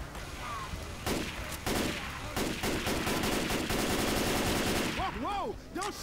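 Rapid bursts of automatic gunfire from the video game Left 4 Dead 2 crack loudly and repeatedly in a steady rattle, with whooping tonal game sounds near the end.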